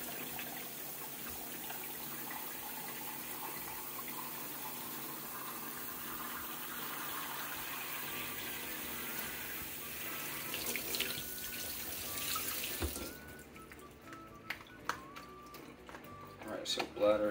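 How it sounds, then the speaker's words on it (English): A hose fills a 2-liter Camelbak hydration bladder with moderately warm water: a continuous hiss and gurgle that gradually rises, then cuts to scattered drips, splashes and handling knocks, with talking throughout. "you can see the water coming out of our hose"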